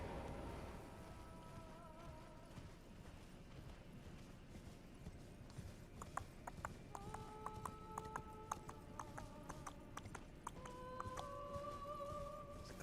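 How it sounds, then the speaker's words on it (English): Torrent, the spectral steed in Elden Ring, gallops with steady rhythmic hoof clip-clops, joined by faint game music tones and effects, all at low volume. "Good old horse noises."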